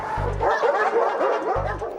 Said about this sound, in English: It's time for the German Shepherds to move on too.